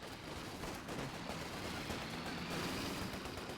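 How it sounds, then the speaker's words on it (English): A mounted Vickers K machine gun fires in a wartime video game, a steady dense rattle of rapid shots that holds at an even, fairly distant level throughout. "And the Vickers K-mounted variant will continue to fire"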